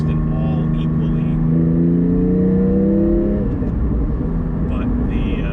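Porsche GT4 fitted with a Soul Performance over-axle exhaust pipe, its engine note rising and falling steadily as it drives, loud and close, with a person talking over it.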